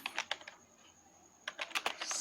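Computer keyboard keys clatter in quick clusters of taps, with a short quiet gap in the middle, close and soft.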